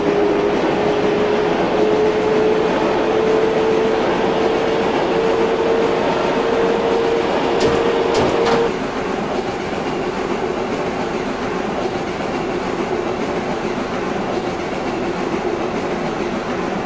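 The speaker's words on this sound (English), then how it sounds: "This is a Manhattan-bound J local train." A Manhattan-bound J local subway train in the OpenBVE simulator runs with a loud, steady rumble and wheel roar, a held tone fading out about halfway as the drone continues.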